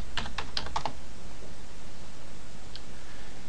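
Computer keyboard keys clicked in a quick burst of about half a dozen taps while a password is entered, followed by one faint later tap over steady hiss.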